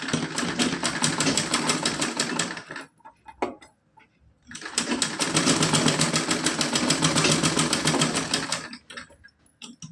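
Sewing machine stitching a cotton frock-style Laddu Gopal dress, two long bursts of fast rattling needle action separated by a short pause with small clicks, close and clear, no speech.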